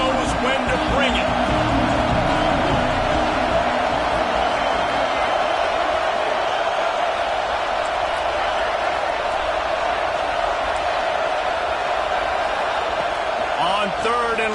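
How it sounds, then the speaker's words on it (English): Stadium crowd at a college football game against Auburn roaring in a steady, dense wall of cheering that fills the whole stretch, with a commentator's voice audible over it. "This crowd knows when to bring it."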